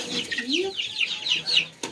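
Young chickens chirp and cluck in a warm barn after being moved there, a close run of several quick, high peeping calls in a rhythmic string, ending in a short sharp knock.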